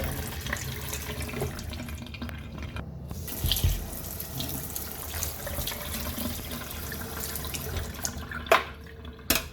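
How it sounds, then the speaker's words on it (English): A ripe plantain is rinsed under a running kitchen tap, water pouring steadily into the sink with splashes and a few sharper knocks, close and moderately loud with no talking. "I'm gonna go ahead now and just wash it off"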